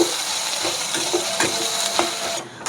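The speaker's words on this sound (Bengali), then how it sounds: "পেঁয়াজগুলো পুরো লাল লাল করে ভেজে নেব।" Onions deep-frying in plenty of white oil for beresta sizzle in a steady bright hiss, with a few soft stirring knocks breaking through, close and continuous with no talk.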